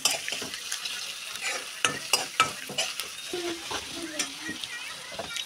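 Spices for a vegetable curry frying and being stirred in a pan in a home kitchen, with crackling sizzle, repeated sharp spatula scrapes and clicks, and faint background voices.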